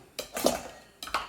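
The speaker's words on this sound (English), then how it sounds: "cut these potatoes into little batons" A knife cuts potatoes into thin batons on a board, giving two pairs of crisp, close knocks separated by a short pause.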